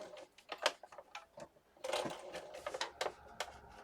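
Sewing machine stitching a doily onto a notebook cover, heard as short faint bursts of rapid mechanical ticking separated by pauses, close and quiet.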